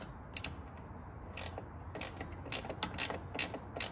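Tightening bolts while installing a GOBI roof rack on a 3rd Gen Toyota 4Runner, heard as a series of quick ratcheting clicks in short bursts, close and fairly quiet over faint background noise.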